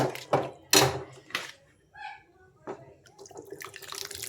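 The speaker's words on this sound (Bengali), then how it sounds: "একটু করে জল দিয়ে দিচ্ছি।" Water poured into a pan of taro flower curry, a splashing trickle in short bursts with a brief bubbling patch, close and fairly clear with no talk.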